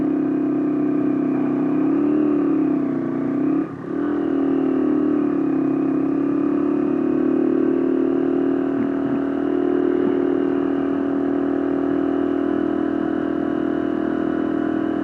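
Steady engine drone of an automatic scooter descending a steep, smooth mountain road toward Mangunan, with a brief dip mid-ride, continuous and close without any talk.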